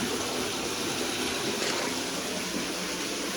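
Steady running water pours and splashes into a bathtub, a constant hissing rush with no talking.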